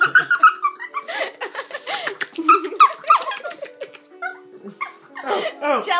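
A jealous pug yips and yaps in quick bursts up close, mixed with laughter throughout.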